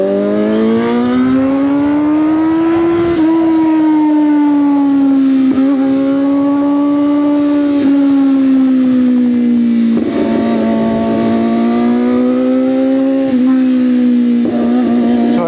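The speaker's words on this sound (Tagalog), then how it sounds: "pag tunnel, nag-e-echo yung tunog ng motor." A loud, close motorcycle engine echoing inside a road tunnel drones steadily for the whole stretch, its pitch slowly rising and falling as the throttle shifts.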